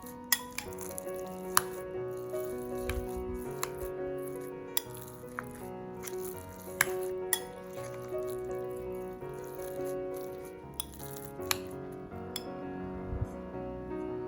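Wonton filling being stirred together with spring onions in a bowl, giving a steady run of soft wet squelches and scattered light clinks of a utensil against the bowl, close and fairly quiet with no talking.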